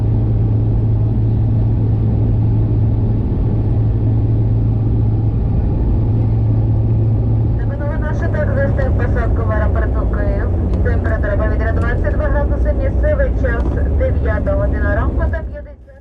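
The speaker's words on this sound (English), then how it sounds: "And we come into land at Giuliani Airport around 10 minutes early." An airliner cabin hums loudly as the Sich flight from Zaporizhzhia lands at Kyiv's Zhuliany airport. A deep, constant engine rumble fills the clip, a voice talks over the second half, and the noise cuts off abruptly at the end.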